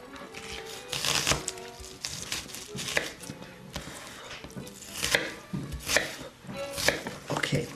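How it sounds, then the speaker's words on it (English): A kitchen knife chops an onion on a board in a steady series of sharp, close chopping strokes, uneven in rhythm, with no talk over it. "that's the way I cut the onions"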